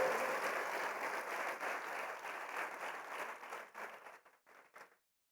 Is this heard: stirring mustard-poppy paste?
no